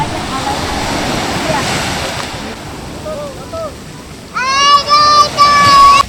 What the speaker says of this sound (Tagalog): May tagasalo po ng bangka, malaki yung alon.